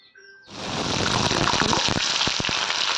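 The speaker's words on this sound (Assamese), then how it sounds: "পিঁয়াজখিনি এতিয়া একদম বাদামী ৰং হোৱালৈকে ধুনীয়াকৈ ভাজি ল'ম" Chopped onions drop into hot oil and a loud, crackling sizzle starts at once, continuing steadily with popping spatters up close.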